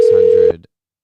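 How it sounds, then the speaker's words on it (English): Outgoing phone call tone, a single steady electronic ring tone held for about half a second before cutting off abruptly, loud and clean with no voices. "As you can see, the phone is ringing now."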